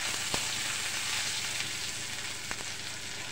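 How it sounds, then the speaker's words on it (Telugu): Mustard seeds, urad dal, cumin and curry leaves frying in hot oil, a continuous hissing sizzle with a few faint crackles and taps, moderately quiet and without talk. "1 స్పూన్ ఆవాలు, 1 స్పూన్ సాయమినపప్పు వేసుకొని 1 స్పూన్ జీలకర్ర వేసుకొని దోరగా వేగిన తర్వాత కొద్దిగా కరివేపాకు"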